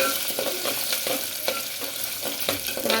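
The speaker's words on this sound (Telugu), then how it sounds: "అల్లం ముక్కలు కూడా వేయించుకుంటే బాగుంటుంది ఆయిల్లో కొద్దిగా" Ginger pieces frying in a little oil in a pan for rice rava breakfast upma, a steady close sizzle with soft stirring scrapes and faint clicks throughout.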